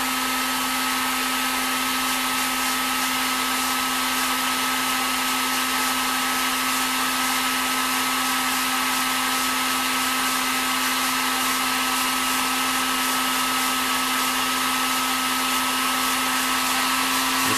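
A heat gun blows hot air over painted soft-plastic lure bodies, a loud, steady whooshing roar with a constant electric hum that holds unchanged and alone throughout.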